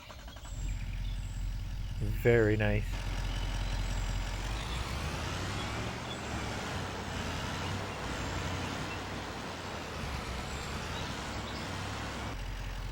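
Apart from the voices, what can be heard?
truck engine and reversing beeps in Farming Simulator 25 video game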